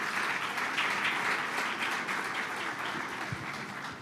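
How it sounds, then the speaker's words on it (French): Dense, steady applause fills the hall at the Jayli Awards 2025 opening ceremony, greeting music-market expert Margot de Merseman as a panelist; the clapping stays loud and even for the full four seconds. "Merci de l'applaudir."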